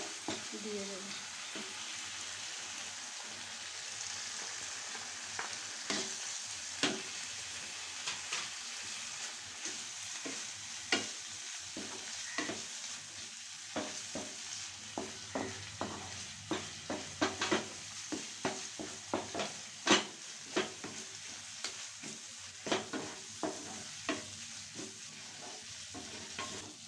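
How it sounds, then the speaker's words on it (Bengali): Fried prawns stirred through a thick cooked masala in a pan, with a steady sizzle and repeated spatula scrapes and clicks that quicken toward the end, close and fairly quiet. "এবার ভেজে রাখা চিংড়িগুলো দিয়ে দেবো।"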